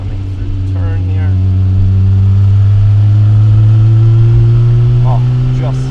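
A triple-black Porsche 911SC coupe rounds a turn on a country road, its engine humming steadily at moderate revs from inside the cabin, with brief voices and faint chirps over the drone.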